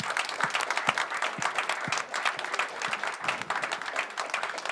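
A round of applause at a 2018 NYRR Millrose Games press conference: many hands clapping in a dense, steady patter for several seconds, moderately close, with a faint murmur of voices underneath.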